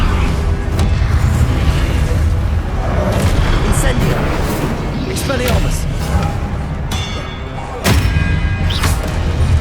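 Constant loud booms, thuds and crackling blasts from spell impacts during Hogwarts Legacy combat, with shouted spell incantations over the noise.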